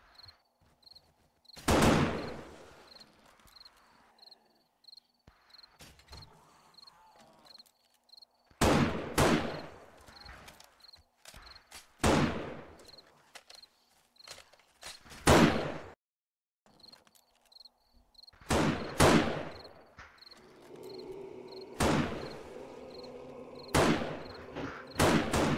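Sparse gunshots in the survival game 7 Days to Die during a night horde, single sharp cracks spaced several seconds apart, moderately loud over a quiet background with a faint repeating insect-like chirp.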